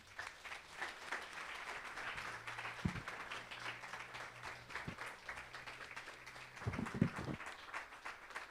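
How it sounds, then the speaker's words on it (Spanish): Church congregation at a Spanish-language Sunday service claps together in a steady, sustained round of applause, with a few louder thumps and low sounds scattered through the noise. "Den un aplauso al Señor."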